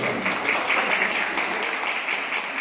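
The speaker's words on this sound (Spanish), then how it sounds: "Damos un aplauso." Audience applause at a toy-giving event for children, a steady dense patter of many hands clapping throughout, fairly loud and close with no pause.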